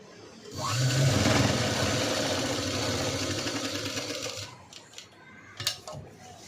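A sewing machine stitches a princess-cut V-neck blouse. It whirs loudly and steadily for about four seconds, then stops, leaving a few light clicks and handling sounds.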